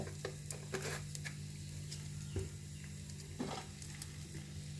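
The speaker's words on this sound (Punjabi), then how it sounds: "ਹੁਣ ਆਪਣਾ ਜੀਰਾ ਤੇ ਹਿੰਗ ਤੜਕ ਗਏ" Cumin and asafoetida crackle and sizzle in hot mustard oil for a Rajasthani aloo sangri sabzi, with faint, steady frying under a low hum and occasional soft stirring taps.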